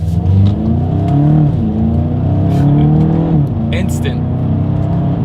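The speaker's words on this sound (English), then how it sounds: "Let's go ahead and put these paddle shifters to the test and see how quickly they react for us here." A 2021 Volkswagen Golf GTI accelerates hard with paddle-shifted gear changes, its engine note climbing steadily and dipping briefly at shifts, loud and continuous from inside the cabin.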